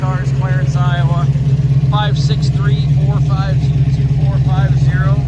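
A 1974 Dodge Challenger with a 360 V8 and automatic transmission idles with a steady low rumble throughout, while someone talks over it continuously.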